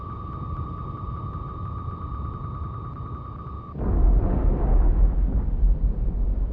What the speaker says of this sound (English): both torpedoes have self-destructed